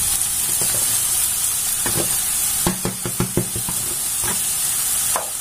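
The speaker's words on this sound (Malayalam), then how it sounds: "നമുക്ക് ഇതിനകത്തോട്ട് ക്യാരറ്റും ക്യാബേജും അരിഞ്ഞത് ഇട്ട് കൊടുക്കാം." Chopped carrot and cabbage stir-fry in a hot pan, a steady loud sizzle running throughout with scattered scraping and stirring clicks from a utensil, no voices.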